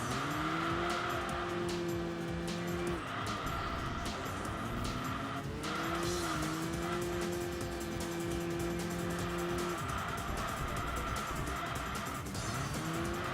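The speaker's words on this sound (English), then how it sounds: "I'm getting a little tired of the sound of CV2." A Citroën 2CV races in the Enthusia Professional Racing video game, its small engine holding a steady buzzing note that shifts pitch between gear changes, with tire squeal under it throughout.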